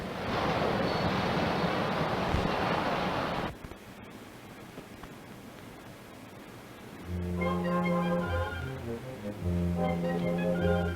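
Water gushes loudly from an opened water company valve in an old 1938 western film, a dense roaring rush lasting about three and a half seconds before it cuts to quieter ambience and then orchestral music.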